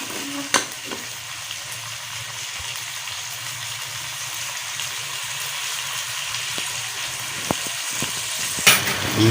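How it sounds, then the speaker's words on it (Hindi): Peas fry with chicken in a pan, giving an even, moderate sizzle with occasional light clinks and stirring sounds. The sizzle stays close and steady throughout, with no talking. "अभी इसको थोड़ी देर हम मटरों को भी भून लेंगे।"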